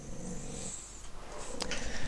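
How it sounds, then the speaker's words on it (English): A pet dog growls and grumbles indoors in a house, low rumbling bursts with a brief snort near the end, fairly close to the microphone and mixed with room noise. "one of my dogs is being noisy"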